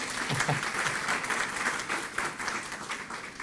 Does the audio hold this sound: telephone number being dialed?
no